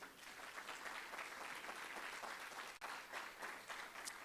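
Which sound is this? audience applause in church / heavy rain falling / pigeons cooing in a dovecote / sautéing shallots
audience applause in church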